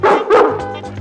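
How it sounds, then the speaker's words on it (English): Several young Dalmatian puppies yip and bark in quick overlapping bursts on a 101 Dalmatians story record, loud and close with no speech over them. "There sat my proud Perdita with 15 adorable puppies."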